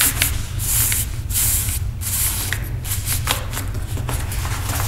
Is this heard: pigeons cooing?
no